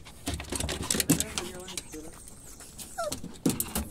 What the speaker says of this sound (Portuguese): Cachorrinho feio,